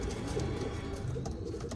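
Pigeons of mixed colours, mainly silvers, reds and red checks, coo steadily in a loft, their low murmuring blended into a continuous noisy background.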